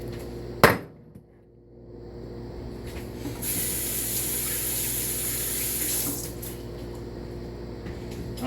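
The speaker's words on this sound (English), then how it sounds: "had to rinse my hands off" Hands rinsed under a running kitchen tap while cooking chicken breast, a steady broadband splash of flowing water lasting several seconds after a sharp knock, with no talking.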